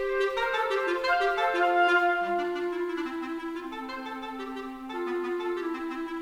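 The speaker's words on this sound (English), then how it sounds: "We're using the clarinets from Spitfire, and there are 3 of them" Three sampled Spitfire clarinets play sustained, overlapping notes in a slow legato phrase, clear and close with no talking.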